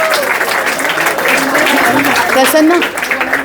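Audience applause at an athlete felicitation event, steady clapping from a crowd under someone speaking over it throughout, close and loud.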